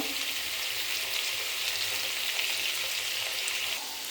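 Potatoes frying in a pan for a spiced potato curry, giving a steady, dense sizzle that stays loud and even throughout before easing slightly near the end, with no voices.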